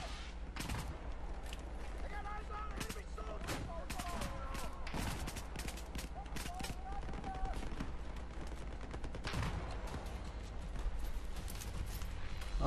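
Battlefield 4 gunfire crackles in scattered bursts and single shots over a busy battlefield ambience, with distant explosions and game sounds mixed in, moderately loud.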